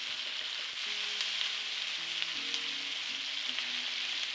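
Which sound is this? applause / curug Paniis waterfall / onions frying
onions frying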